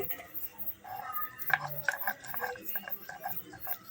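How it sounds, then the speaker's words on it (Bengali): Paste is ground on a pata grinding stone, stone rasping and knocking in an irregular back-and-forth rhythm, close and moderately loud. "আমি পাটায় বেটে নিচ্ছি"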